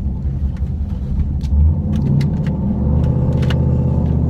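A car engine revs and rumbles up to warm its tires during setup testing, a close, heavy low drone that builds steadily with some clicks and rattles over it.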